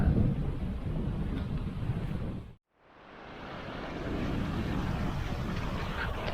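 Wind gusting across a Greek island beach on Schinousa, a steady loud roar and buffeting on the microphone that drops out briefly, then builds back to a sustained rush.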